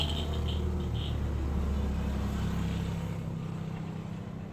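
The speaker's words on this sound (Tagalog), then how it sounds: "ang dami mga sasakyan na dumadaan" Vehicles roll past outside a house, a steady low rumble of traffic heard from indoors that fades slightly toward the end, with faint brief chirps above it.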